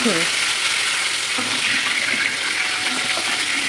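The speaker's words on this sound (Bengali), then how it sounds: "তেলটা অনেক গরম হয়ে গেছে, হালকা হালকা করে ভেজে নিই" Momos deep-fry in very hot oil, a loud, steady bubbling sizzle that runs throughout with small crackles and faint stirring scrapes.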